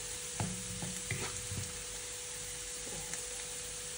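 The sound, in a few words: leftover rice being stir-fried in pan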